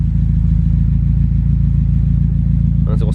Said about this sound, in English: Moment of truth. Here we go, boys. And she idles.